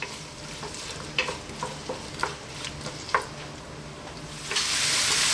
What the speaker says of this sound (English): We're going to drop in our onions. I'm on a kind of fairly mild heat, nothing too crazy.